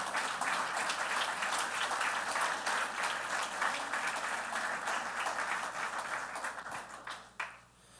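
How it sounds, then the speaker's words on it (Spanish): Sustained applause from a church congregation, a steady dense wash of clapping that holds for several seconds and then fades out toward the end. "Dar un aplauso al Señor."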